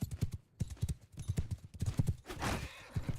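Horse galloping in a video game battle, rapid heavy hoofbeats in an uneven drumming pattern with a brief noisy rush of battle sound near the end.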